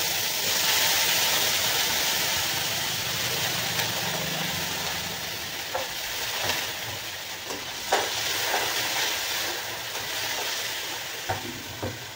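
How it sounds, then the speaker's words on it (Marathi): Cut potatoes and green peas sauté in hot oil for an aloo matar dish, giving a continuous, even hiss of frying with occasional soft clinks from stirring. "तर आपल्याला बटाटा आणि वाटाणा थोडासा तेलामध्ये परतून घ्यायचा आहे"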